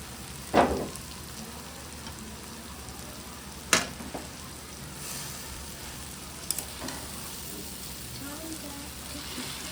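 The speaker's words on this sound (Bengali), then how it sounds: "এবার আমি চাউমিনটা আস্তে আস্তে ঢেলে দেবো। চাউমিন সাথে ডিম দুটোই।" Chowmein and eggs frying in a pan, a continuous sizzle with a few sharp clatters of utensils stirring against the pan; a voice talks quietly over the cooking.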